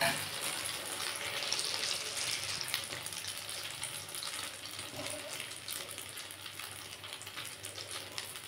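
Small pieces of egg frying in a pan, a faint, steady crackling sizzle that hisses continuously at a distance, with no talking over it.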